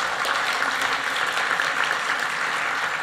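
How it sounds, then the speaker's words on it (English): Audience applause for Imogen Heap at an enterprise blockchain awards event: a dense, even burst of clapping from a sizable crowd, steady and unbroken for about three seconds, with no voices over it. "If we could give an applause for Imogen."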